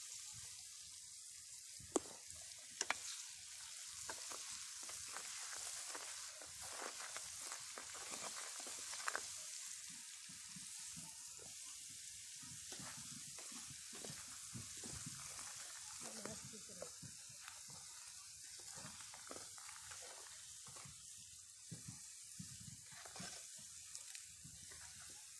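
Taqleya of oil with ground coriander sizzles and crackles steadily in a pan, a dense bright hiss that stays even throughout with occasional stirring clinks and someone speaking briefly.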